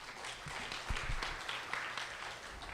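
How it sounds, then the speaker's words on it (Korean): Audience applause at a Korean financial investment forum as a real-estate speaker is welcomed to the stage: a fairly soft, steady wash of clapping from a seated hall, lasting a few seconds with slight swells. "큰 박수 부탁드립니다."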